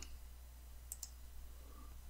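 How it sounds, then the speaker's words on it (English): Two quick, faint mouse clicks close together over a quiet low hum. "right mouse click, and select isolate"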